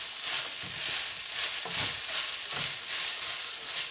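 Ground beef frying in a pan while being stirred, a steady bright sizzle with rhythmic swells roughly every second as the meat is pushed around, close and alone.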